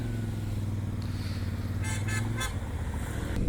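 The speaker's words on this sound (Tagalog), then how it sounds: "sobrang lakas ng wind noise at saka ng, ng engine at saka ng exhaust pipe sound natin" Motorcycle engine and exhaust drone steadily under heavy wind buffeting during a ride, with a brief series of horn-like toots partway through.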